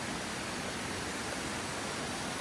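A river flows near a campsite in Real Quezon, a dense, steady rushing wash of water that stays even and continuous with no voices.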